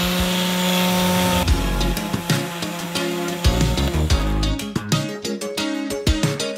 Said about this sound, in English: so what we're gonna have to do is, unfortunately, sand all this off.